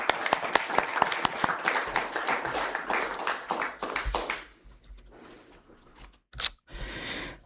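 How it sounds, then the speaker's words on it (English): A school district board meeting audience claps for about four seconds, the applause thinning and fading out, followed by quiet room noise and a couple of brief thumps. "Let's give a big round of applause"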